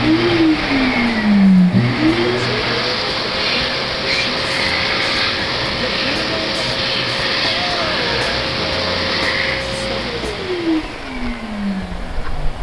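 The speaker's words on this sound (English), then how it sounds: "this is the hand dryer" A hand dryer in a restroom in Seoul, Korea, whirs steadily for about ten seconds, with a sustained mid-pitched motor tone that rises as it starts and falls away as it shuts off, heard close over a broad airy roar.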